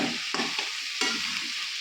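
Spice paste for biryani stirred in a hot pan, a close, loud sizzle with two or three distinct scraping strokes of the spoon.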